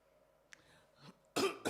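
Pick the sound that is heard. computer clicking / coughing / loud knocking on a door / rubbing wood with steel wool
coughing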